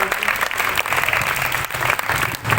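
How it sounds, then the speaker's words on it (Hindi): A crowd of villagers claps together at an outdoor village gathering. The applause is dense and sustained throughout, with faint voices mixed in underneath. "सभी एक दूसरे के लिए तालियां बजाएं अच्छे से।"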